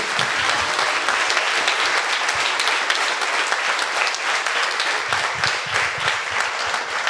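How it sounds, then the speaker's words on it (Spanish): Sustained audience applause fills a music-and-literature talk event at a music documentation center, steady dense clapping at an even level from start to finish with no voices. "Un aplauso para Gilmer Mesa, por favor."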